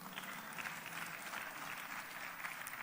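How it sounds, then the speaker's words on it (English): Applause from an audience at a presidential address to a parliamentary chamber, a steady, faint wash of clapping heard from a distance, unbroken for the short stretch. "And I will give you a round of applause"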